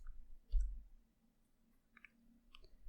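A computer mouse button clicks a few times, sharp and close in an otherwise quiet room, with one firmer click near the start and lighter ones later.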